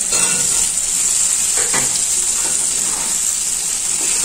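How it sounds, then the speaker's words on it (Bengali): Boiled potatoes fry with spices in oil in a pan, a dense, steady sizzle close by with a couple of soft stirring scrapes, no speech. "এবার আলুগুলোকেও আমি মশলার সঙ্গে ভালো করে ভেজে নিচ্ছি"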